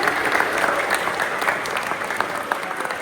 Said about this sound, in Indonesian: Mungkin boleh tepuk tangan semuanya